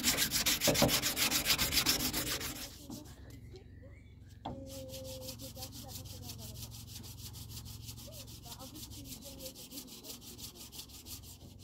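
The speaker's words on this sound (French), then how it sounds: "Je vais me mettre dehors pour poncer, ça sera quand même mieux." Wood is hand sanded outdoors to round off its corners: steady, rapid back-and-forth rasping strokes, loud and close, with a brief pause before the sanding resumes at an even pace.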